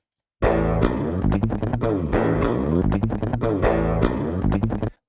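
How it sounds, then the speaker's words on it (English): Clean DI electric guitar signal recorded in Cubase for a djent-style tone, playing dense, rhythmic palm-muted chugs and chords with sharp attacks, loud and continuous without any voices. "I'm going to show you first what the DI sounds like."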